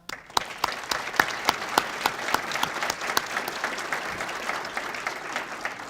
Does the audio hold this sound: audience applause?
yes